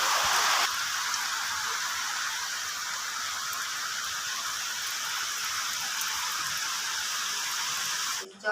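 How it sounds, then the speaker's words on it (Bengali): Heavy monsoon rain pours steadily from dark skies, a dense continuous hiss that holds evenly for about eight seconds before cutting off abruptly near the end. "বৃষ্টি হচ্ছে, আজ সকাল থেকেই মুষলধারে বৃষ্টি হচ্ছে।"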